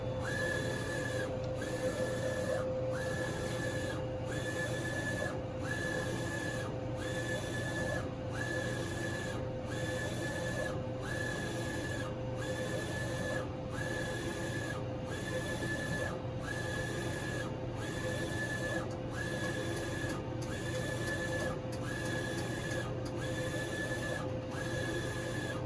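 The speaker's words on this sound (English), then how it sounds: "So now it's printing the designs first." A Roland Versacamm printer printing sticker designs, its print head shuttling back and forth in a steady, regular cycle of whirring passes over a constant motor hum.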